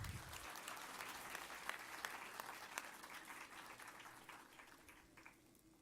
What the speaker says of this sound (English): Please clap generously.